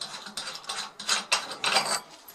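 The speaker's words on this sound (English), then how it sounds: "One of them, which I shall remove for you now by turning it anti-clockwise." Knob on a Newtonian or Dobsonian telescope mount being turned anti-clockwise to unscrew it: a series of close, gritty ratcheting clicks and grinding bursts in short uneven twists, with no voices.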